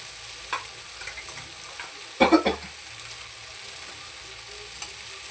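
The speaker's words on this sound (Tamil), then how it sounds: "இப்போ தக்காளி நல்லா வதக்கி விட்டுக்கிறோம்" Tomatoes sauté in a pan for a village-style country chicken curry, a faint steady sizzle with a brief louder burst of stirring midway and no talk.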